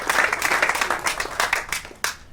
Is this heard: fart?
no